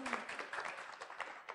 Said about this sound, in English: Round of applause for Shiv